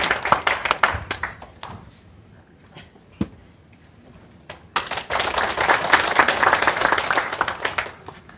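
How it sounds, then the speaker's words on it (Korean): An indoor audience at a screening and Q&A event breaks into applause, beginning with scattered claps, dropping off briefly, then swelling into sustained, dense clapping from many people. "박수로 맞이하겠습니다"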